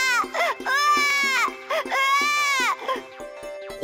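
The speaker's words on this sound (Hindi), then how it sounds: "उस तरबूज के अंदर से बच्चों के रोने की आवाज आने लगी।" In a Hindi animated story, babies wail from inside a watermelon in long, rising and falling cries, two bursts of crying with short pauses, over a steady rhythmic background beat.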